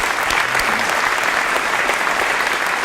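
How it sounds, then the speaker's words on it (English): Audience at a police awards ceremony in a church applauds steadily, a dense, loud wash of clapping that holds throughout with faint voices mixed in. "Please give them a round of applause"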